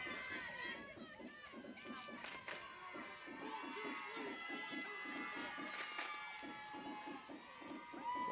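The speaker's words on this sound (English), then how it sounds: "A little bit more lively dugout for Armstrong now as they're clapping in some rhythm for Cassidy Adams" A softball dugout at a championship game claps in a steady rhythm, with players cheering and shouting and crowd chatter mixed in throughout.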